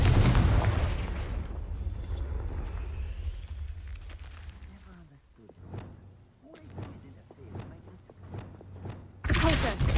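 Confringo fire spell from the video game Hogwarts Legacy: a loud burst opening the clip, then a series of sharp thuds and impacts with a final blast at the end, under game effects.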